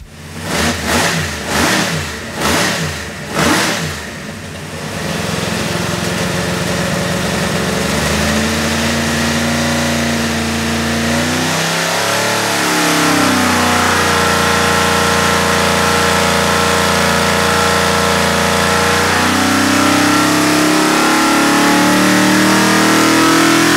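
A 427 cubic inch LSX engine on a dyno, after a few sharp blips at the start, revs up hard and holds a loud, steady, rising roar toward 6,000 RPM, close and dominant with no talk.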